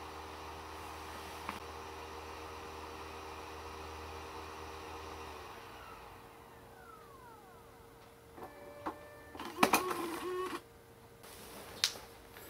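A Toshiba laptop's disc drive writes a system recovery DVD, a steady whirring hum that winds down partway through, followed by scattered clicks, ticks and a short burst of mechanical clatter close by.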